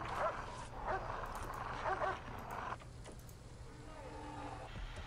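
Small dogs barking in kennels inside the prison-management game Prison Architect, a burst of yips and woofs over a steady low hum, fading to quieter whimpering toward the end.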